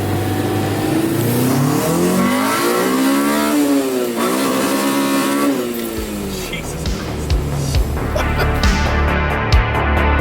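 A K20-powered Honda Civic pulls hard in first gear on a rain-soaked road, struggling for traction. The engine note climbs steadily, loud and close, with a continuous wet roar before the revs drop and settle.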